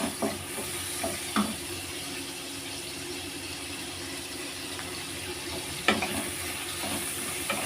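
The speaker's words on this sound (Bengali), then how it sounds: "ভালো করে চিংড়ি মাছগুলো ভেজে নিতে হবে।" Prawns fry in a pan for a potol-chingri dish, giving a steady soft sizzle with occasional scraping stirs and clinks, fairly quiet and close with no talking.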